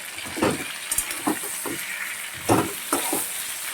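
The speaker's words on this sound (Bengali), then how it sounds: "ঢাকা দিয়ে দিয়ে যদি মাছের মাথাটা ভাজা যায়" A large catla fish head fries in oil in a covered pan, a close, continuous sizzle broken by several scraping stirs and soft knocks at irregular intervals.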